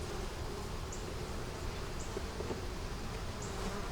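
Honeybees buzz at an open beehive in a dense, steady, close drone, with single bees whizzing past now and then.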